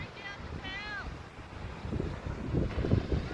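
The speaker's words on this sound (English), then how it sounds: "So I do apologise if it's a bit windy." Gusty wind at a beach buffets the microphone, and the rumble strengthens toward the end. A brief bird call is heard early on.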